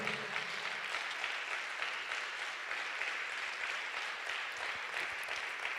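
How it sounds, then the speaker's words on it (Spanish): Church congregation applauding during a sermon, a steady dense wash of many hands clapping continuously, moderately loud and fairly close, with no talking over it. "Da un aplauso al Señor."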